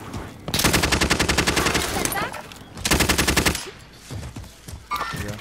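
Loud rapid automatic fire from a video game, in two long sustained bursts with a short gap between them. A few scattered shots and clatter follow, and there is no talk.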